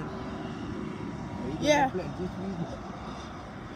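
A small private jet touches down at speed at Piarco airport, a distant engine roar swelling briefly beneath ongoing conversation and outdoor background noise.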